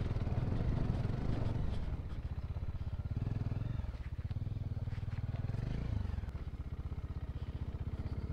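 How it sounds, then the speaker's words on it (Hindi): A motorcycle engine labours close by as the bike rides off-road up a slope, its throbbing drone rising and easing with the throttle, with some clatter and scraping from the terrain. "तो गाइस चली आ गई अपनी बाइक ऊपर।"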